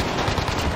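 Rapid, continuous Mac 10 submachine gun fire in the shooter game Warzone, a loud close-range burst with tightly packed shots and no pause.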